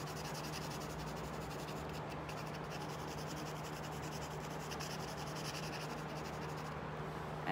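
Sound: pencil shading and blending on paper

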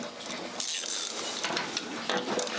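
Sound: ratchet with 14 mm socket turning bolt on motor

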